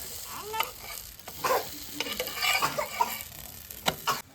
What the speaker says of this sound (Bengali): আমার পরোটা ভাজা হয়ে গেছে এরকম করে লাল লাল করে ভেজে নেবো